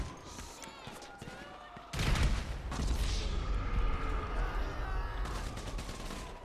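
Gunfire in the video game GTA 5 Online, a burst of rapid shots followed by sustained loud rattling fire and booming, with voices talking over the action.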